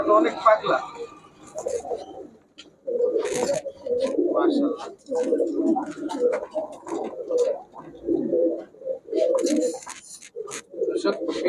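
Giribaz pigeons coo in repeated soft throaty phrases close by, with someone talking over and between the calls.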